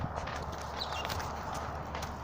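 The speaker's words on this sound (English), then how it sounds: "Here are my horsies." Hooves of three white horses clop softly on a farm, an uneven walking rhythm of dull thuds heard at a distance beneath a steady outdoor hiss.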